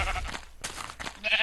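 A sheep bleats a few times in a survival video game, short wavering calls heard close and clear over a faint background.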